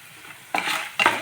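Spices frying in generous oil for Tamil vatha kuzhambu, with two short bursts of stirring and sizzle close up in a pan after a quiet moment.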